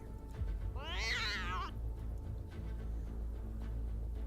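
Chardonnay, the ghostly cat of Burgundy in a video game, lets out one drawn-out wavering meow, close and fairly loud, over a low steady hum of game ambience.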